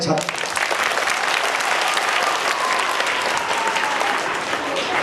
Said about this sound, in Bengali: আবার একবার জোরে হাততালি।